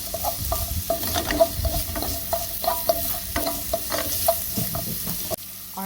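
Cauliflower and mixed vegetables sautéed in a hot pan: continuous busy sizzling under rapid, clattering spatula strokes, loud and close, stopping abruptly near the end, with no voices.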